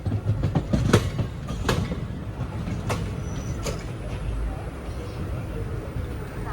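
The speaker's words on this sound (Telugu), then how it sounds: "4:28 అయితే గుంటూరు జంక్షన్ లోపలికి ఎంటర్ అవుతున్నాం." A passenger train on the Kakinada to Mysore special run rolls into Guntur Junction station, giving a steady close rumble with sharp clicks of wheels over rail joints and faint voices in the background.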